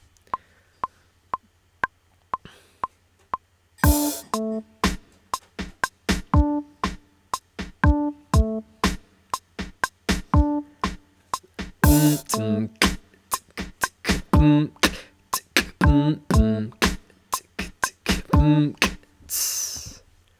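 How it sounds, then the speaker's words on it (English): A slow beatboxed instrumental performed by one voice: sharp vocal kick and snare hits in a steady rhythm, with a hummed bass line that shifts between a higher and a lower pitch, preceded by a few soft isolated clicks. "Now, I've got a little instrumental to demonstrate how this sounds"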